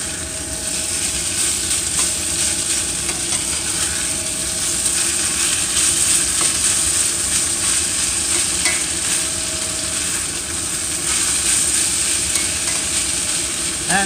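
Sausage gravy with flour being stirred in a hot pan, a steady loud sizzle with scraping of the utensil along the bottom, continuous and close with no talking.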